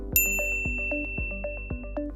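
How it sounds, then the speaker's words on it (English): A bright notification bell chimes repeatedly in a quick rhythmic sequence, each clear metallic ding ringing out alone with short decaying tails and no voices. "ring the bell to be notified about our latest videos"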